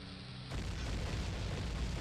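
Chain of bomb explosions in the video game Zelda Ocarina of Time, a sudden loud blast that swells into a dense, sustained rumbling roar after a quiet game-music opening.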